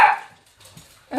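A dog gives a short bark or yip at the start, followed by soft low rustling and a second brief yelp at the end, nearby and moderately loud in a home kitchen.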